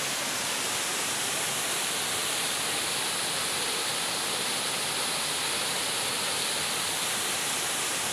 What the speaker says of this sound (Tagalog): Narating din yung Torres Ipol Falls. So mahina yung current ng tubig.